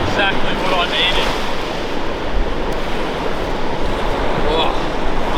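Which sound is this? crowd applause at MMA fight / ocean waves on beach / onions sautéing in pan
ocean waves on beach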